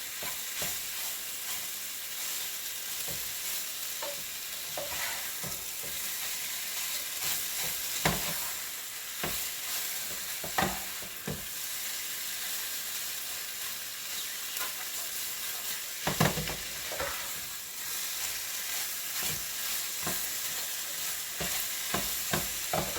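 Pieces of lamb for a stew sear in a hot pan with a continuous loud sizzle and hiss, broken by repeated clatters and scrapes as the meat is stirred and turned, no voices.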